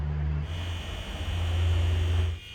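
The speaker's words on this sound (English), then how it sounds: "That's the sound of the microwave." A microwave oven running with a low, steady electrical hum and buzz, close and constant for a couple of seconds before it dips at the end.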